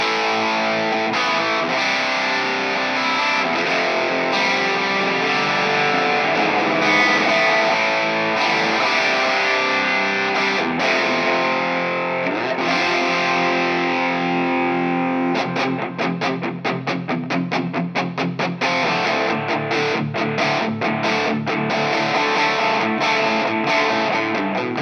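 Distorted electric guitar played through a Suhr Discovery Analogue Delay pedal, with dense sustained chords trailing into repeating echoes and then fast rhythmic picking, loud and continuous with no voices.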